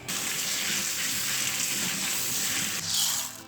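Steady stream of tap water running and splashing over red kidney beans set to soak in a pot or bowl, continuous and close with a brief louder surge near the end; no talking.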